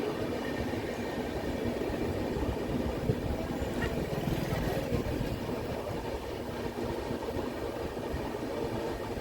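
The Barbil Jan Shatabdi Express rolls slowly at Chirugora station amid track work, a steady, loud rumble of wheels and carriages that fills the whole stretch with no voices.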